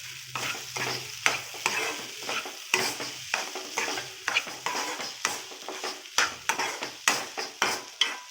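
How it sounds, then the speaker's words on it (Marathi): Sugar, cardamom, cashews and almonds being stirred into sheera, a semolina sweet, in a pan: a quick rhythmic series of scraping strokes and taps of a spoon against the pan over a soft sizzle, close and fairly quiet. "आता वेलची आणि काजू बदाम छान मिक्स करून"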